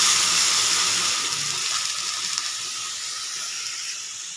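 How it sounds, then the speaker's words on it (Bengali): Water is poured into a pot of measured raw rice for paneer pulao, a steady loud rushing hiss that fades slightly toward the end, with no voices. "জলটা দিয়ে দেব।"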